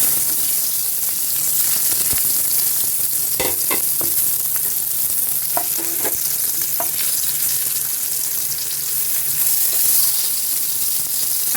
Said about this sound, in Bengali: তো দেখুন আমার এখানে তেলটা গরম হয়ে গেছে। এবারে একে একে এইভাবে ছেড়ে দিতে হবে।